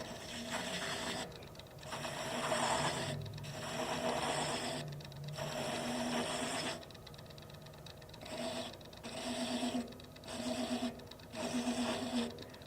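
A lathe cutting a thread in acrylic gives off a steady mechanical whirring and scraping in repeated passes, each broken by brief pauses, with slight chatter and no speech.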